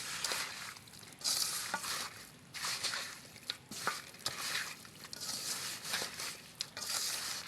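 Hands kneading raw goat mutton with spices for a village-style curry as the meat releases juices, giving close, continuous wet squelching and slapping in uneven pulses, fairly quiet and without speech.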